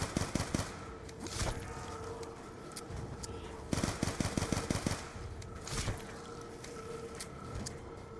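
Bursts of automatic gunfire and single shots ring out in the Black Ops 2 Origins zombies game, rapid clustered volleys spaced across the clip over game background sounds.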